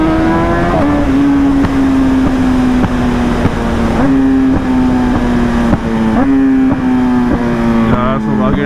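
A BMW S1000RR motorcycle riding on a road in the morning, its high engine whine holding steady and stepping up and down with gear changes under heavy wind rush, heard from the rider's position.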